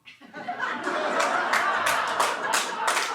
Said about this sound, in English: clap if you recognize me